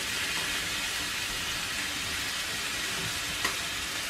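A beef roast sears in a hot pan with a steady, loud broadband sizzle that holds constant throughout, plus a faint clink near the end.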